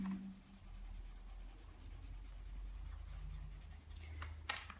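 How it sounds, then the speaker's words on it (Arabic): Faint soft scratching of a coloring tool moving across paper as a letter is filled in, quiet and continuous, with a few slightly louder strokes near the end. "يلا كنا مع بعض نلون يا كيجي"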